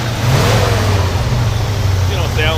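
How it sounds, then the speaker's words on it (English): A 1968 International Harvester Travelall's engine runs with a low, steady rumble and a mild rev, loud and close, continuous for the whole stretch with a faint voice behind it. "So go ahead and rev it up a little bit."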